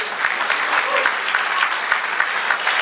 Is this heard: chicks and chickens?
no